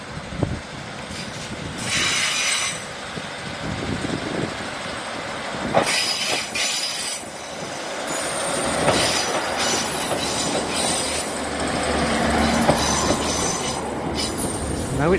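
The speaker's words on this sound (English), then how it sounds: "the only train of the day's just gone" A two-carriage Northern train pulls out of Heysham Port station on the line to Lancaster, a steady rolling rumble with wheel squeal and clatter that swells and lingers for the whole stretch, with no voices.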